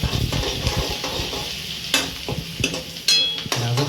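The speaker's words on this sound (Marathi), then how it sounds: "तेल तापलं आहे मस्तपैकी. कांदा टाकून घ्यायचा व्यवस्थित." Sliced onion frying in hot oil for an egg biryani, a steady close sizzle broken by clanking stirs and scrapes of a spoon against the pan, with a sharper burst of hiss near the end.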